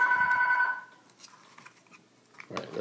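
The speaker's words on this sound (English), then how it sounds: "till it stops ringing. That is a weird ring." A telephone with an unusual ring trills briefly at the start and then stops, followed by quiet rustling and small handling noises nearby.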